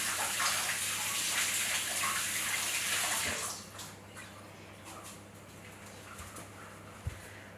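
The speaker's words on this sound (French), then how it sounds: "je vais me rincer les mains 30 secondes" Hands are rinsed under a running kitchen tap while baking a chocolate praline babka brioche, a steady rushing water stream for about three seconds that then stops, leaving faint clinks and room noise.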